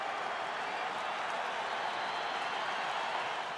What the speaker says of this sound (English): Now this big crowd, a lot of them on their feet, trying to root Penny out of the jam